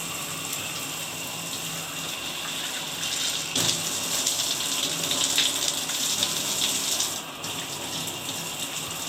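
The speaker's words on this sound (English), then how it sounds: "And you got adequate shower pressure." Hotel shower with Delta plumbing fixtures at a Best Western Plus in Estes Park, Colorado, running at steady pressure, a continuous hiss of spraying water close by that swells slightly midway and then settles.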